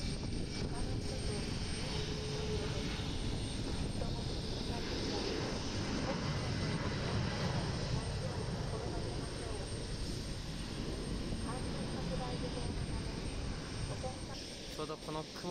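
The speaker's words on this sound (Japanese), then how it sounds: "テイクオフクリアランスが出て離陸し始めました" A small J-Air regional airliner takes off at Itami Airport in Osaka, its engine roar a steady broadband rumble from a distance that holds throughout and eases slightly near the end.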